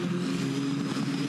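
A Formula 4 race car engine is heard during a race at the Gold Coast. It gives a steady, droning engine note with a sustained buzzing tone in this brief stretch, and no pauses.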